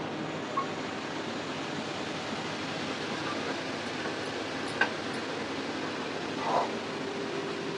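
Steady frying sizzle from a hot pan as onion goes in while cooking dal with shrimp, a continuous close hiss with a few faint clinks and no talking.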